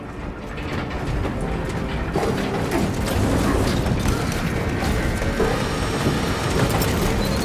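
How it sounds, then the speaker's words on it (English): An elevator arriving in Warhammer 40k Space Marine 2, a loud, steady mechanical rumble of grinding gears and ratcheting metal that builds slightly and holds for several seconds with no voices over it. "The elevator's almost here."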